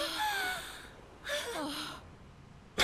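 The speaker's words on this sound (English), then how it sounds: "That gasping, what was that?" A character in the video game Gravity Rush 2 gasps, with several breathy, voiced gasps and sighs rising and falling in pitch, followed by a sharp burst at the end, fairly faint and without talk.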